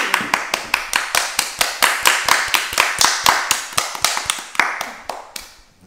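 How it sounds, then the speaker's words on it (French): Rhythmic group clapping at a children's summer Olympic games event, crisp unison claps in a steady fast beat that speeds slightly and thins out at the end. "On applaudit."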